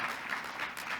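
A dental hygiene forum audience gives a short burst of dense, even applause, a wash of many hands clapping at moderate distance with no individual claps standing out.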